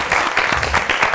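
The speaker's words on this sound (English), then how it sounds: "Give him another round of applause" Brief, loud round of applause from a science quiz audience, a dense rush of clapping hands lasting only a moment with no speech.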